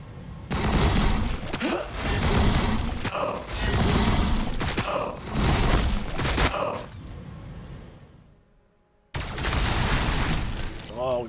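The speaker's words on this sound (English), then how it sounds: "They are returning fire." Gunfire rattles in Warhammer 40,000: Battlesector as units return fire in a Necrons versus Tyranids battle, with loud sustained volleys and booms, a short near-silent gap, then another burst.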